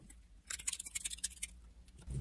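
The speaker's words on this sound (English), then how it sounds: "We need to shuffle these to create our final draw deck" A deck of Assembly board game cards is shuffled, giving a quick burst of crisp riffling and flicking for about a second and a half, close and fairly quiet.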